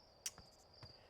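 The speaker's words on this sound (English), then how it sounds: "Timberhearth has crickets." Crickets on Timber Hearth in the video game Outer Wilds give a faint, steady high-pitched trill, with a couple of soft footfalls in the background.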